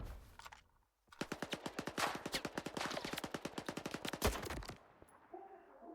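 Rapid automatic gunfire in the video game S.T.A.L.K.E.R. 2: Heart of Chornobyl, a sustained burst of about thirty evenly spaced shots lasting over three seconds after a brief pause, then quieter game ambience.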